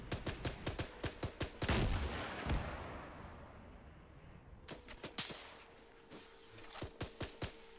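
Rocket impact and gunfire in the video game Arma 3: rapid rhythmic bursts of shots, then a heavy blast with a long fading rumble, followed by more volleys of sharp cracks at moderate distance.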